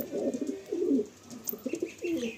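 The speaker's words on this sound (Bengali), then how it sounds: "এই 1 সেট চটিয়াল পায়রা" Madrasi Chotiyal pigeons cooing in a loft in low, throaty bursts, several overlapping calls repeating close by with brief pauses between them.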